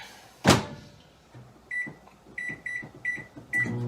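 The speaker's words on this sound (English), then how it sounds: "Into the microwave." A microwave oven's door thuds shut, then a quick series of short electronic keypad beeps sounds over a faint hum in a quiet kitchen, with no talking.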